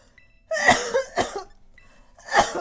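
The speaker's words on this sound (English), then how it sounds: "Curse my cough." Someone coughs in short bursts indoors, two quick close coughs followed by a pause and then a third, heard on its own with no talking.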